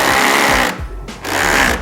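A power drill whirs loudly while driving a screw into the back plate of an Arcade1up cabinet, running in two bursts with a short pause between them.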